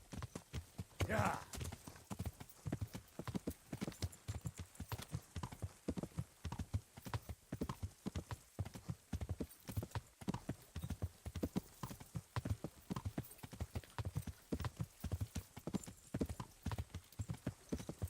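Horse hooves clip-clopping steadily while riding, a long run of regular, evenly spaced beats, distinct and fairly close, with a brief louder burst near the start and occasional voice and whinny sounds mixed in.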